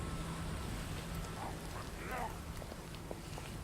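Steady rain hisses and patters across the whole stretch in the video game Dead Island: Riptide, a dense, even wash with faint scattered drops and no voices.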